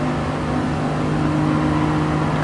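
A Toyota Yaris race car in Gran Turismo Sport holds a loud, steady engine drone with strong tonal harmonics, revving evenly throughout without a break.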